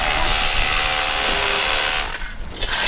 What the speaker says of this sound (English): I bet you the mic is really picking up the sound of the rotary hammer,